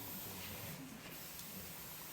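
An aerosol spray can hissing in one steady, continuous burst over quiet room tone during a physics demonstration show.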